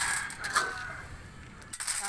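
Feed pellets dropped by hand into a container holding boiled quail eggs, giving a few light clicks and rattles, with one sharper clatter near the end.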